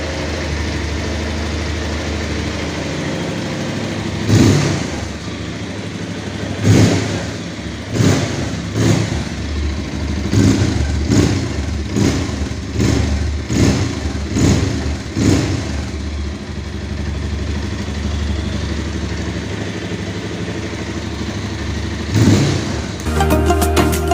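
A 220 BS6 motorcycle from 2020 idles close by, then revs repeatedly in a run of sharp bursts before dropping back to idle and giving one last rev near the end.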